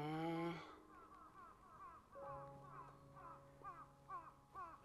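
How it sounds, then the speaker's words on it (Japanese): Crows caw in a rhythmic series of harsh calls in an outdoor farm setting with mandarin orchards and blooming camellias, preceded by a brief harmonic sound and a low steady hum underneath. "鳥の鳴き声がすごい"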